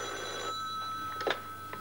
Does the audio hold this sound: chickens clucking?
no